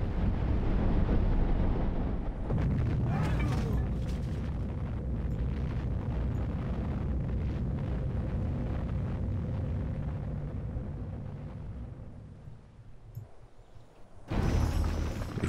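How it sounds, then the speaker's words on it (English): A city being bombed in the video game Civilization V, heard as a long, deep rumbling explosion that swells and slowly fades over many seconds, followed by a sharp fresh burst near the end. "Then we'll bomb Fortaleza."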